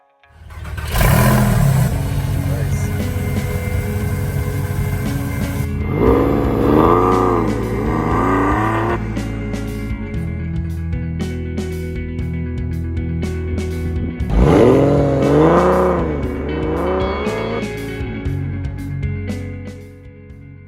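A 2000 Porsche 911 Carrera engine starts with a roar, idles, then revs up sharply twice, each rev rising and falling in pitch, loud and close.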